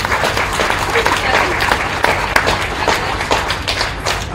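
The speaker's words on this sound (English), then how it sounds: "Let's give them a big round of applause." Loud, dense applause from the crowd at a county fair market beef show, sustained clapping with sharp individual claps standing out, close and continuous, with some voices mixed underneath.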